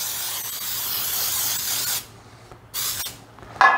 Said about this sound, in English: Tonight I'm gonna spray it with the baking powder in there with the flour